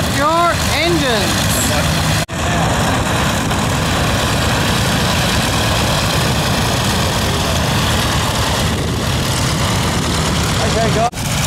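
Vintage fighter aircraft engines idle at the Omaka Classic Fighters Air Show in Blenheim, a loud steady drone that fills the whole stretch under a busy outdoor crowd, with a voice rising briefly at the start.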